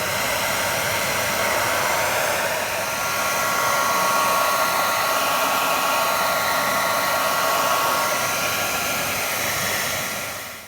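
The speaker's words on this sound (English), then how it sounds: "Next we'll get the hairdryer." A hair dryer roars steadily and loudly, blowing hot air onto the engine of a 2007 HSP Tornado 1/8 scale 4WD nitro monster truck for about ten seconds before winding down.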